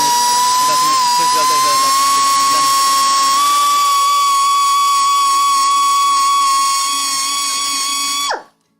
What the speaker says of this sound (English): the biggest reason why we're grinding all the welds